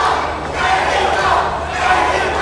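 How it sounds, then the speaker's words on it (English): A wrestling crowd at an independent IPW show chants USA, a loud, dense wash of many voices rising and falling in rhythmic waves. "Sam Adonis here trying to start a USA chant."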